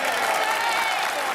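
Sustained applause fills a parliamentary chamber during a heated Prime Minister's questions exchange, a dense, steady wash of clapping from many members with no break across the short moment.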